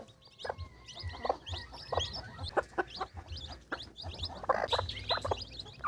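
Newly hatched chicks from a home-made incubator peep in quick, high chirps alongside hens clucking nearby, forming a busy, moderately quiet chorus of fowl calls.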